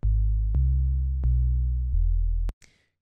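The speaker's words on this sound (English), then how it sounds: "If we turn off the noise and oscillator B, we should get kind of an 808 effect." An 808-style bass patch built in the Serum synthesizer plays a short run of deep, booming sine notes, each starting with a sharp click and holding steadily before the next. A brief fading tail closes the sequence, heard alone with no voices.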